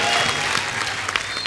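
A studio audience at a television comedy show claps loudly and steadily, a dense wash of applause with no break.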